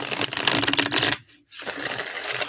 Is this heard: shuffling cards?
yes